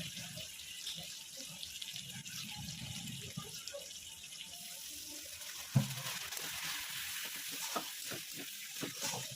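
Water is poured into a spice paste of chopped tomato, coriander and cumin powder in a cooking pan, giving a quiet splash and hiss followed by soft sizzling and a few stirring knocks, fairly faint overall.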